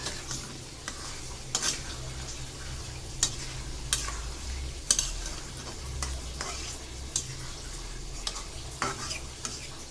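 Spice masala frying for a shing fish curry is stirred with regular scraping strokes over a low steady sizzle and a faint background hum.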